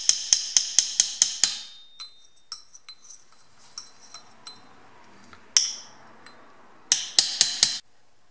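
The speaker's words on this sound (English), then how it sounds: "Tap it a little bit with a hammer." A hammer taps a metal fork seal driver on a Honda XR400 in quick bursts of sharp ringing strikes, then sparser single taps, then another rapid run of blows, close and clear.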